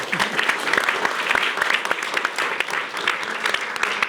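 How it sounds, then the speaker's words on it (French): Studio audience applause on a French TV talk show, a dense burst of many hands clapping steadily and fairly close, holding throughout. "Tout d'abord, Mike Borowski, on l'applaudit."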